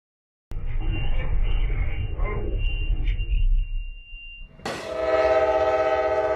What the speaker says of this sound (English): Train crashes into obstructing vehicle